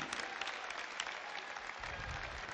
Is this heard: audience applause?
yes